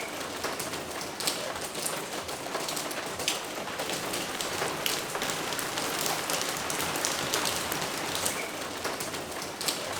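Heavy rain in Canggu, Bali, pours steadily on surfaces as a dense, unbroken hiss with scattered sharper drops. It is loud and close, and no one speaks.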